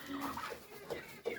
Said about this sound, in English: Sophia is bringing more chicks.